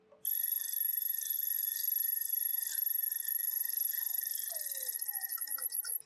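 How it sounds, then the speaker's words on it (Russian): A drill boring a blind hole into a flipped metal workpiece on a lathe, heard as a steady high-pitched whine with tonal squeal that holds level, then wavers and chatters toward the end; no talking. "Перевернул заготовку и сверлю отверстие."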